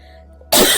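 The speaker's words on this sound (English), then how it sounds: "I have a coughing fit." A single sudden cough bursts out loud and close after a half-second of near silence, harsh and broadband, cut off as the clip ends.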